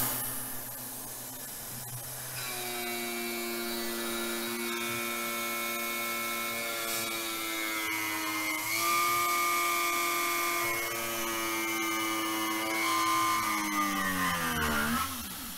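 Tormach 770 CNC mill spindle spinning at 7,000 RPM while cutting, a high, steady whine with stacked tones that rises and shifts as the cut loads the tool, then bends down near the end; strained, sustained and fairly quiet overall.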